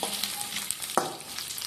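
Bitter gourds fry in a pan with a soft, continuous sizzle and occasional stirring scrapes and clicks, heard close up and without talk.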